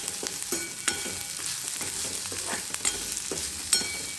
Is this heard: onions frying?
yes